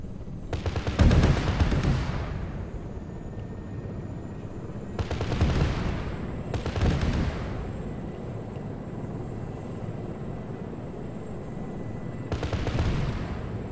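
Heavy automatic gunfire in ArmA 3 comes in four separate long bursts, loud and rattling, with a steady engine drone underneath between volleys.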